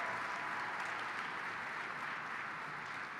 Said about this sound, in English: I want you to give her a great round of applause for a great job.